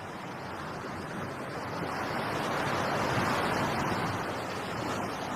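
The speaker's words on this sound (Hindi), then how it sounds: "अपनी आंखें बंद कर समुंदर की लहरों को सुनकर मुझे शांति मिलती है।" Seaside surf rolls onto the beach in a steady rushing wash, building gently in the middle of the stretch, with no one speaking.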